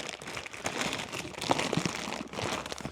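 Plastic packaging around a heavy-duty lights wiring harness is cut and pulled open, giving a steady close crinkling and crunching rustle that continues for a few seconds.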